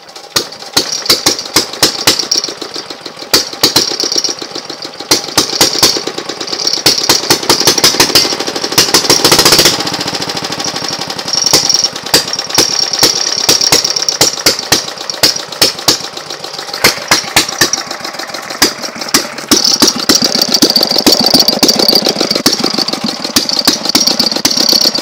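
A diesel buggy engine runs at idle for the whole stretch, a loud, close, steady clatter of rapid knocking pulses with a harsh rattling edge and no voices.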